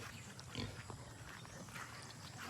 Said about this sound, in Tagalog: Yan oh, kaliliksi ng baboy.